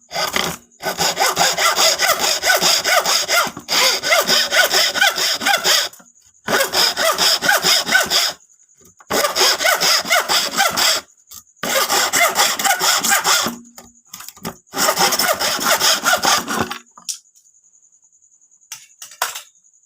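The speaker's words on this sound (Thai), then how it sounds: "ตัดเลื่อยออกนะครับ แล้วก็เอาเลื่อยออกที่เราขีดไว้นะครับ" A hand saw rasps through wood along a marked line, cutting a tenon, in five long bursts of rapid back-and-forth strokes, loud and close, with short pauses between them.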